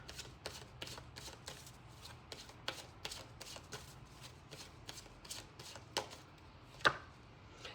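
Tarot cards are shuffled in a quiet, rapid series of crisp riffling flicks, regular in rhythm, with one sharper snap toward the end.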